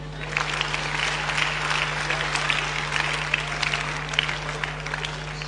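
Audience applause at a church sermon, a steady wash of many hands clapping throughout with a low constant hum underneath, no talk over it.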